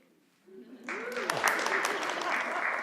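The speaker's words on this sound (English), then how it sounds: "There's nothing like spontaneous applause." Conference audience applause at a university human resources event starts abruptly after a short spoken introduction, a dense steady wash of many hands clapping from a large room.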